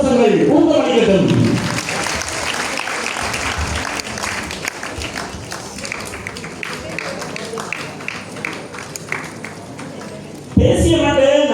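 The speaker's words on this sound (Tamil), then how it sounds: "உங்களுடைய கரகோஷங்கள் ஊக்கமளிக்கட்டும்" An audience at a literary festival applauds a first-place student singer, sustained clapping at moderate distance with talk running over it.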